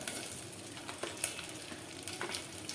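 Curry leaves and green chilies crackle in hot oil with a soft, even sizzle and a few faint stirring scrapes, quiet and close, with no voices.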